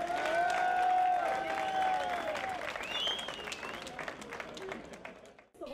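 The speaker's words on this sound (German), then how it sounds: "großen Applaus aus Zwickau." Applause rises from the crowd at the opening of a Zwickau festival where a beer barrel is tapped. Fairly faint clapping sits under sustained tonal sounds and thins out toward the end.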